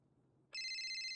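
A mobile phone suddenly starts ringing with an incoming call, a loud steady electronic tone that cuts in after a quiet moment and holds close to the end.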